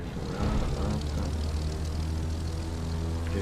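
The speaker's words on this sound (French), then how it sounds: "je vais passer l'avion, je repasse tranquillement l'avion là" Propeller airplane in The Crew 2 racing game, a steady droning engine hum that swells slightly and then holds at moderate volume, with no talk over it.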